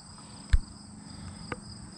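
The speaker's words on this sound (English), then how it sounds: "In case you just listen to the crickets" Faint, steady high chirping of crickets in the background, interrupted by two brief soft knocks nearby.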